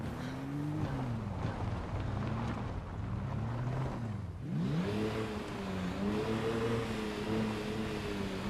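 Engine revving in the video game Project Zomboid, a steady low drone whose pitch rises and falls in wavering sweeps, then surges upward again partway through, loud and continuous with no talk.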